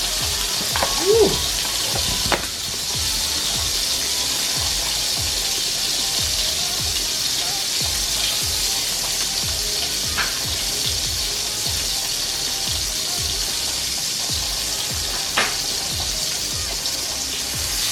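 Garlic frying in butter in a pan, a steady close hiss of sizzling with faint crackles throughout, continuous and even, with no talk.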